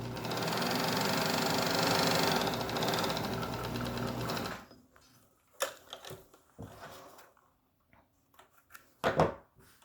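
Sewing machine stitching along the top line of a two-layer cotton face mask, running in a steady, continuous whir for several seconds, then stopping, followed by scattered handling clicks and fabric rustles.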